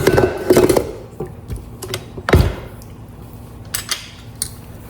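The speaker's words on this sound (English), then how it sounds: "Gonna let my mixer do the work for about 8 minutes." A stand mixer works monkey bread dough in its bowl with a steady low mechanical whir. Thumping knocks and clatters recur as the dough slaps around, heard up close and loud with no speech.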